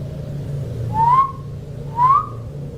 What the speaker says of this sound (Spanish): Alguien silbó entre los árboles.